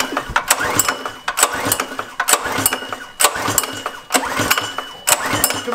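A Predator 212 engine on a tracked scooter is pull-started by hand: about six rhythmic rasping recoil pulls with mechanical clatter, close and moderately loud, and the engine never catches.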